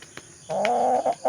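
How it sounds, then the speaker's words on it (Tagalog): A white chicken clucks close by in a few short, throaty bursts, with the last call breaking into quick repeated clucks. "nangingay ng puting manok"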